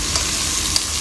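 Ground beef sautéing in a home-cooked mustard greens dish, a steady close sizzle with light stirring scrapes and a couple of faint clinks, no voices.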